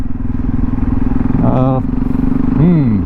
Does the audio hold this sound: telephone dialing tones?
no